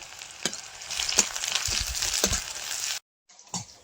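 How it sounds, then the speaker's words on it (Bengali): Dried red chillies, chopped onion and garlic fry in hot oil with a loud crackling sizzle and a few sharp spattering pops, cutting briefly to silence before the sizzle returns more faintly. "তেলের মধ্যে শুকনো লঙ্কা ফোড়ন দেবো, পেঁয়াজের কুচি আর রসুনের কুচি দিয়ে দেবো।"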